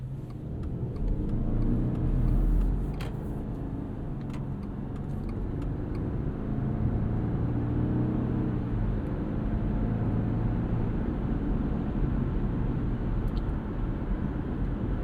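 Inside a 2024 Subaru Outback Touring XT with a 2.4-liter turbocharged boxer engine cruising on the highway, a quiet engine hum blends into steady road and wind noise, continuous and subdued, with no talk.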